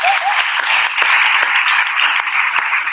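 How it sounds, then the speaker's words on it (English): Round of applause from a university launch event audience, dense steady clapping filling the whole stretch with no pauses, fairly loud and close. "Give me a round of applause as well."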